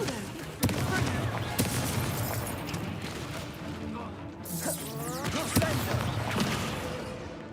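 Confringo fire spell blasts in the Hogwarts Legacy video game: sharp explosive bursts and booming impacts recur through a dense, loud battle mix, with game voices shouting over the combat.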